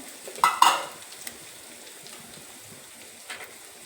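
Raw potatoes tossed into a hot frying pan, giving a brief sizzling burst near the start followed by a faint, steady frying hiss.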